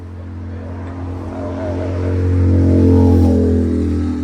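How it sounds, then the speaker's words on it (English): A Mazda SA22 rotary engine turning over on its starter in one long, loud, droning crank that builds slightly and holds steady without catching, no voices. "Let's give it an extended crank, see what it does."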